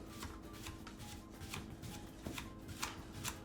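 A kitchen knife rocks through a cucumber on a cutting board, giving a quick run of light, rhythmic tapping cuts, faint and close with no talking.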